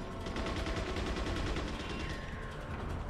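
Gunfire in Resident Evil 4 on PS2, a fast steady rattle of repeated shots, loud and continuous for a few seconds with no voices on top.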